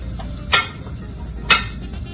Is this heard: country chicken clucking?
no